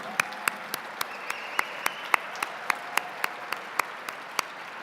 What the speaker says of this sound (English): So please, everyone, join me in a round of applause to thank Byron for his leadership